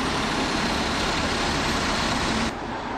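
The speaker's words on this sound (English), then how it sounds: "That's a bus, and there's another one." Buses passing along Princes Street, a main shopping street in Edinburgh: a loud, steady roar of heavy diesel engines and road noise close by, dropping slightly near the end, with no talking.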